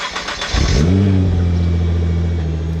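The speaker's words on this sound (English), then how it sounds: "So Sabertooth generously provide him with the visitor's car, a Nissan GTR." A Nissan GT-R engine starts and revs up, the pitch rising steeply before it settles into a steady, loud drone close by.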